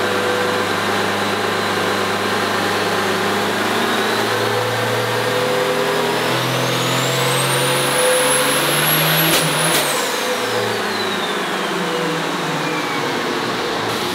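A truck engine on a dynamometer rises in a loud revving pull, with a whine that climbs steeply, then cuts sharply at a hard rev limiter near 3200 RPM and winds down.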